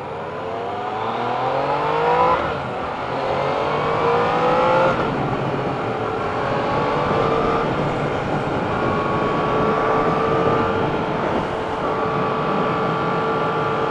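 Yamaha XSR900 motorcycle on a demo ride at AimExpo 2016, engine revving up through the gears in loud rising sweeps with a brief drop at a shift, then holding a steady strong drone, close and alone without talk.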